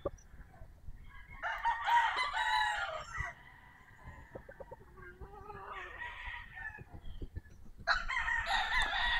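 Several crows from white Kelso gamefowl and other roosters on a gamefarm, repeated calls at mid distance with a gap between bursts, some clucking in the background.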